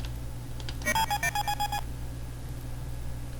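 Nav Droid beeping in Space Quest 1 on the Apple IIgs, a quick chirpy run of about a dozen electronic bleeps lasting under a second, clear over a low steady hum.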